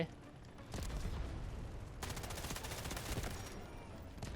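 Automatic fire from a K-416 rifle in the video game Delta Force, dense rapid bursts that start after a brief lull and continue loudly, with a short break midway and speech faintly underneath.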